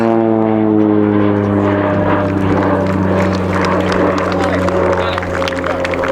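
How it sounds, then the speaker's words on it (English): A Pilatus PC-7 propeller trainer of the Swiss Air Force team spins during an aerobatic display at the RIAT 2022 airshow, its engine and propeller a loud, steady droning hum with shifting pitch. "The PC-7 gets into a spin"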